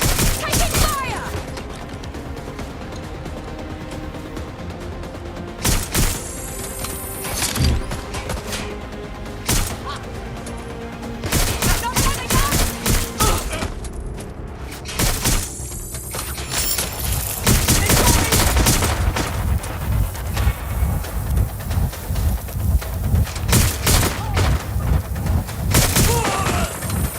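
Sustained gunfire in the game Watch Dogs Legion: loud, dense bursts of rapid shots crackle almost without pause, with heavier volleys and impacts mixed in throughout a hectic firefight.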